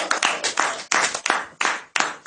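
A church congregation claps in strong, rhythmic unison bursts, roughly one burst every third of a second to half second, loud and close, with a crowd cheer blended into the claps.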